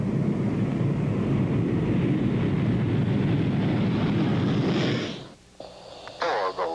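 Thunderbirds jet aircraft at full takeoff thrust give a loud, deep roar that fades and drops away near the end, leaving quieter background sounds.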